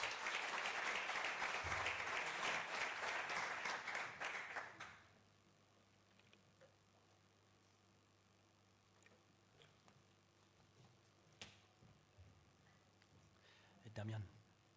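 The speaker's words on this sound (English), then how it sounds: "One round of applause, please." An audience at a live-streamed Johan Cruyff Institute event applauds for speaker David Vargas, with a dense burst of clapping for about five seconds that stops abruptly, leaving a quiet room with a few scattered knocks.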